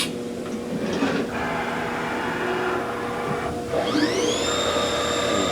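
A Haas VF-1 vertical machining center with a 20-tool turret runs through a tool change, giving a steady mechanical whir and hum, then a rising electric whine as the spindle spins up near the end, with no voices.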